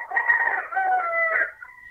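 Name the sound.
chicken or rooster crowing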